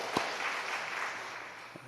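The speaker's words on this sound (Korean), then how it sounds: "우리 수고하신 할렐루야 찬양대 위해서 우리 큰 축복의 격려 박수를 드리겠습니다." Congregation applause for a church choir during a worship service, heard as a faint, steady wash of clapping throughout with a single sharper clap near the start.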